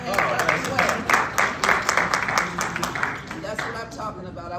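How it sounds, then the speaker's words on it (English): A council meeting crowd claps for a Navy veteran, a steady wash of clapping with sharp hand bursts, fairly close, with voices mixed in throughout. "Well, give him a hand clap as well."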